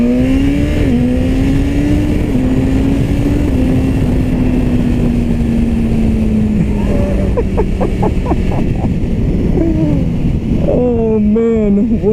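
A 2017 BMW S1000RR motorcycle engine while riding, loud and close with a strong steady drone whose pitch sags gradually, then shifts through gear changes and rises sharply on acceleration near the end.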